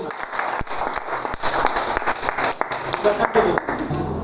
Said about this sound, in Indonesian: berikan tepuk tangan buat kelompok 5